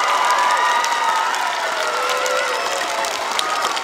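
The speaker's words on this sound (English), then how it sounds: "Let's give our parents a big round of applause," At an elementary school ribbon cutting, a crowd of parents and students breaks into loud applause mixed with cheering and children's high shouts, a bright continuous roar that eases slightly toward the end.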